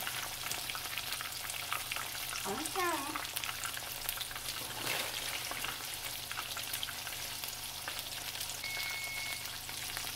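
Southern-style okra frying in hot oil, a faint steady crackle and sizzle running throughout with a couple of brief clinks.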